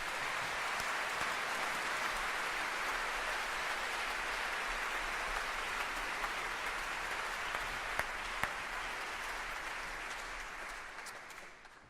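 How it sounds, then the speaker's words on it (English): An audience applauding young musicians at an event, sustained dense clapping from a large crowd, steady and fairly loud for about eleven seconds before tapering off at the end. "let's give them a round of applause."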